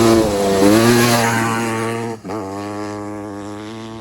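Motorcycles being ridden: a close engine note climbs and falls as the throttle opens, dips sharply for a moment, then settles into a steady hum with no talking.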